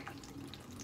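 Water gurgles and trickles steadily as it drains through a siphon in an aquaponics kit, soft and close.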